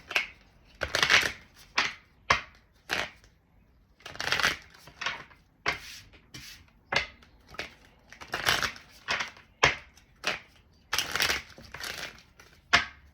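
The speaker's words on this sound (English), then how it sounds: "I'll shuffle." Repeated riffling and slapping of tarot cards being shuffled, a dozen or so crisp bursts in an uneven rhythm, close by with no talking.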